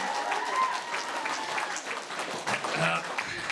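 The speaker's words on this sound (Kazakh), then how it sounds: "Шапалақ ұрайық, достар, никто не ожидал." An audience at a wedding party breaks into dense, continuous applause, with a voice speaking over the clapping throughout the short burst.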